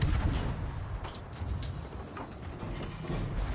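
Rumbling booms and muffled explosions from torpedo hits and naval gunfire during a World of Warships battle, a dense continuous low roar with a few sharper blasts, loud and sustained throughout.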